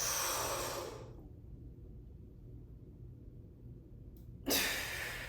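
A slow, deep breath drawn in and let out during a breathwork exercise, close and soft, with a broad airy rush that fades into near silence and then returns sharply for the next breath.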